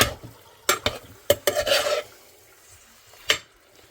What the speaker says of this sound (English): Just a little bit of garlic. Here it's sizzling there.